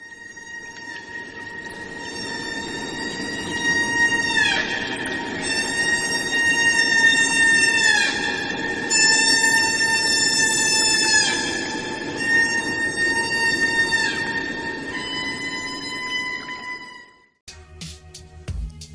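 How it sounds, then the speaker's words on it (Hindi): A humpback whale sings long, eerie tonal calls that swoop and waver in pitch, loud and sustained for about seventeen seconds before an abrupt cut into a brief, different tonal snippet. "हम्बैक वेल सिंगिंग भी करती है"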